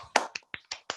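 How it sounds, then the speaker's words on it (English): A few people clapping over a video call during an online book launch, a handful of sparse, uneven claps heard one after another, thin and slightly distant as if coming through laptop microphones. "So turn on your microphone, give them a good clap."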